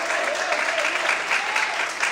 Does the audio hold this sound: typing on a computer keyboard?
no